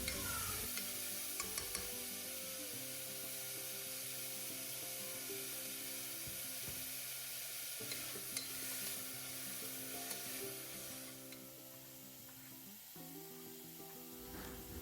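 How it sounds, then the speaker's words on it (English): Sliced onions sauté in a pan for paya soup, a soft continuous sizzle with occasional stirring scrapes, faint and close, with no talking. "So after adding the onions, I'm going to saute it for a while"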